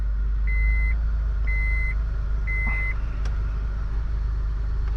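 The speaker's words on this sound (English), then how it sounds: "check all keys to ensure to start the engine" A 2005 Honda Pilot's engine idles steadily after starting, a low continuous hum with three evenly spaced electronic chimes from the vehicle and a brief click near the end.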